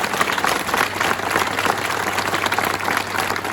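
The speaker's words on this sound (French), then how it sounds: "je voudrais qu'on applaudisse M. Purguette ainsi que toute l'équipe de la Marseillaise" Audience applause at an outdoor inauguration of the Square de La Marseillaise in Marseille, honouring the newspaper's team: steady dense clapping from a crowd, fairly close and even in level for the whole stretch, with no voices standing out.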